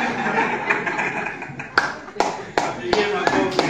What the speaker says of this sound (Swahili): Apigie makofi